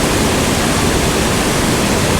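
Fast-moving water rushes loudly and continuously at a landscape photography location, a dense close roar of flowing stream or falls with no voices.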